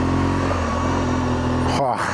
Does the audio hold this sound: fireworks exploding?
no